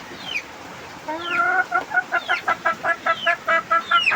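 A chick peeps loudly and repeatedly in a fast, even series of sharp cries, close by, over a quiet background.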